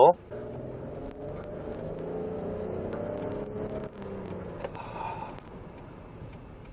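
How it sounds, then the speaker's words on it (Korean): A fifth-generation Ford Explorer 3.5 V6 4WD Limited accelerates, heard from inside. A smooth, moderately loud engine hum rises steadily in pitch for several seconds, then eases into a quieter cruising whir. "제가 이제 이 차량의 가속력 테스트 한번 보여드릴 건데요"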